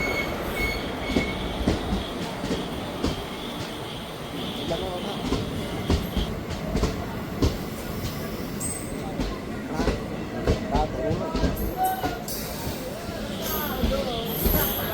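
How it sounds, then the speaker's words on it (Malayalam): A train rumbles into a station with rolling wheels, occasional squeals and clanks, while people talk nearby over the steady mechanical noise. "പോകാനുള്ള ട്രെയിൻ അകലെ വരുന്നുണ്ട്"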